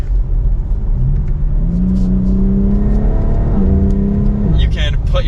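A 2023 BMW X3 M Competition accelerates hard, its engine note climbing steadily in pitch through a gear before a brief dip and another rise, loud and continuous beneath someone talking over it.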